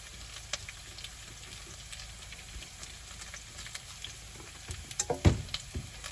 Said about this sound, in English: while these taters are browning